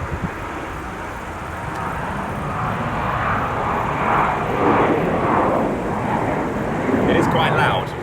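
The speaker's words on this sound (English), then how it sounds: "That's a plane taking off now," A fixed-wing airplane taking off from an airport beside a village, a loud steady engine roar that swells slightly, with a person speaking over it.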